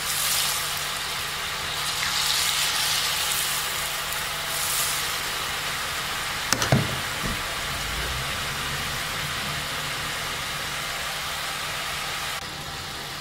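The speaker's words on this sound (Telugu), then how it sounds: "ఇప్పుడు మనం ఒత్తుకున్న ఈ జంతికల్ని మెల్లగా ఆయిల్లో వేసుకుందాం" Potato murukulu frying in hot oil, giving a steady, dense sizzling hiss throughout, with a brief clatter partway through.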